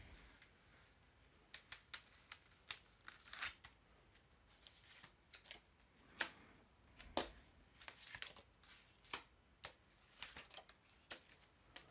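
Tarot cards are laid out on a table in quick, uneven clusters of crisp slaps and flicks. They are close and fairly quiet, with short pauses between bursts and no talking.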